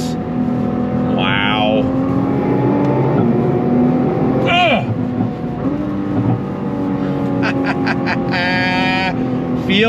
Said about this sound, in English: But let's go on throttle again, shall we? On throttle, here we go.